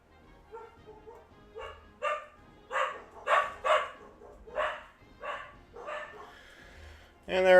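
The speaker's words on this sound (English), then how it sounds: "And there are the dogs again." Dogs bark in a string of sharp, fairly faint yips and woofs, spaced irregularly against a quiet background, with one louder burst at the very end.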